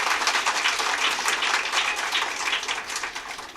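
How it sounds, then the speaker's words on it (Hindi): Steady, fairly loud applause from an audience at a prize distribution program, a dense wash of many hands clapping that fades slightly toward the end. "एक बार ज़ोरदार तालियां इनके लिए"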